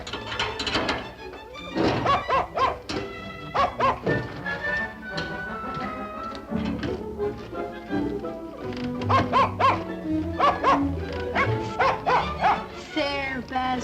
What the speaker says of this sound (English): Hasn't anyone let that poor dog out of its crate yet?